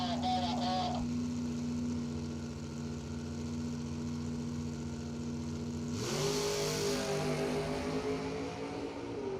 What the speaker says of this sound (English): Rick Lawrence in the 62 Oldsmobile. 592 on the 91 attempt.